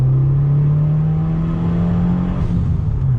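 Used Subaru WRX accelerating on throttle in second gear, a loud, steady engine drone that climbs gradually in pitch, close and continuous with no talking.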